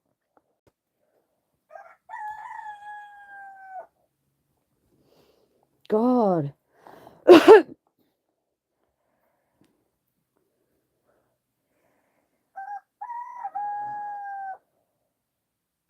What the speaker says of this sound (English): I'm apologising on behalf of the cocks outside, making a hell of a noise.